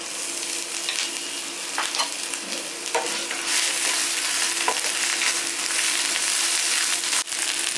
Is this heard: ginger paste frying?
yes